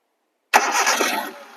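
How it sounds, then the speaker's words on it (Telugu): A 2008 model car engine fires up after a short silence with a sharp crank that catches into a loud, steady running roar, close by, slowly settling toward idle. "ఇంజిన్ స్టార్ట్ చేయి."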